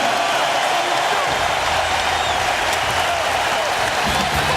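Roaring, cheering crowd in a basketball arena during Game 6 of the 2008 NBA Finals between the Celtics and Lakers, a loud, continuous wall of fan noise with a deep rumble coming in partway through.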